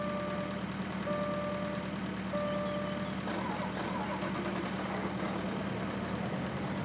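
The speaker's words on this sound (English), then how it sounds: "Oh, start the engine." Tractor engine running in the farming video game Farming Simulator 2013, a steady low hum with tonal whine lines that carries on without a break at moderate level. No talk over it.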